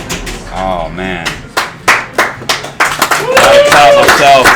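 A man claps his own hands at a match play tournament semi-final, a run of about half a dozen sharp, close claps in an uneven rhythm, with excited talking before and after.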